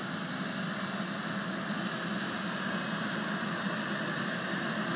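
A Life Lion Dauphin II medical helicopter takes off at Carlisle airport, a loud, steady turbine whine with a high squeal over a broad rushing roar, close and unbroken throughout with no talk.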